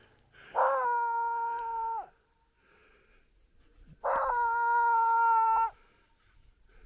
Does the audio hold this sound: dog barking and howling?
yes